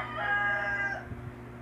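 A single rooster crows once, slightly distant, over a faint steady hum, followed by a couple of soft thumps.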